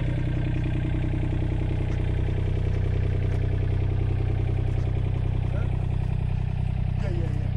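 A 2007 Komatsu PC27MR-2 mini excavator in Miami, Florida, runs steadily with a loud, continuous diesel drone and low rumble as it swings around on a smooth ring gear, with faint clatter mixed in.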